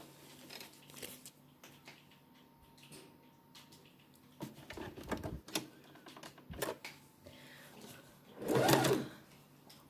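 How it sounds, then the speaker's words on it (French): A sewing machine runs in short stitching bursts across a fabric face mask, close by, and ends in one longer, louder run of whirring needle strokes. "Voilà, je vais coudre ça."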